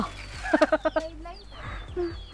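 A chicken clucks in a quick run of five or six short, rhythmic calls nearby, with soft background voices and ambient rustling.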